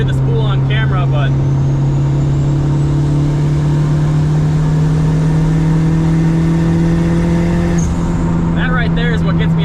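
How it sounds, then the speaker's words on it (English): Boosted Honda Civic accelerating from the driver's seat, with a steady engine drone rising in pitch and a faint turbo whine above it, loud and continuous throughout. "I don't know how well you can hear the spool on camera"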